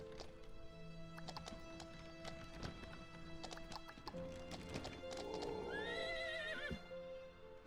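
A horse whinnies loudly over steady clip-clopping hooves in the video game Nightsoil, with synthetic game-like tones and clicks in the background.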